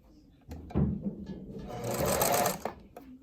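A sewing machine runs a short back stitch on a ribbon tutu: a brief mechanical whir that starts with a clunk, hums for about two seconds, then stops, with a faint voice nearby.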